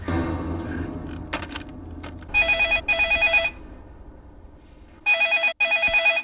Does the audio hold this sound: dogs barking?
no